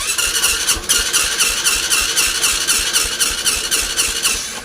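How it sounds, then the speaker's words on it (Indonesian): A Honda Supra X 125 motorcycle with weak compression being started from cold: a rhythmic, repeated starter cranking with regular pulses that never catches, close and loud. "saya kedatangan motor Supra X 125 yang jika mesin dingin tuh susah dihidupkan"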